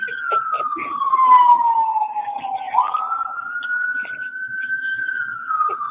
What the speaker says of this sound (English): We always have sirens in DC.